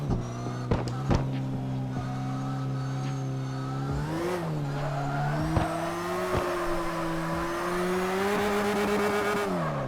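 Virtual drift car in CarX Drift Racing Online sliding sideways, a sustained loud tire squeal over a steady revving engine, pitch dipping and rising as the throttle shifts, with occasional sharper clicks.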